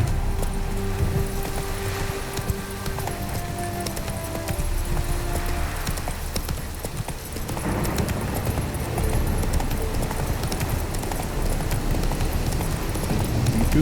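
Horse hooves clip-clop along a trail in The Witcher 3, a steady rhythmic plodding that runs throughout amid game ambience and music, with no talking.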